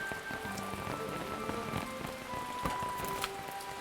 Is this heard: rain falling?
yes